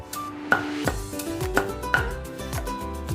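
A knife chops galangal on a cutting board for Thai curry paste, five or six firm, evenly spaced strikes ringing out close and alone.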